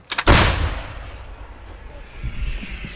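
A single loud, close blast of a towed artillery gun firing, with a sharp report followed by a long rumbling decay and faint voices afterward.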